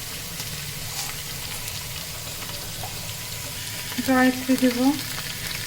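Ginger and garlic paste with shah jeera frying in oil for beef biryani, a steady soft sizzle running throughout, with a short burst of voice near the end.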